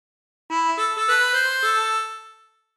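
A harmonica plays a short phrase of Bella Ciao: five quick reedy notes stepping along, each ringing into the next, close and clear, then fading after about two seconds with no voices.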